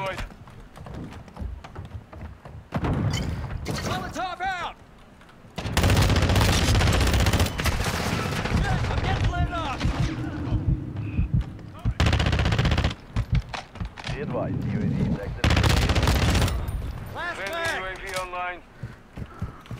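FR Avancer rifle fire in Call of Duty Modern Warfare 2 erupts in loud sustained bursts at the Valderas Museum, with pauses between volleys; a player talks intermittently over the shooting.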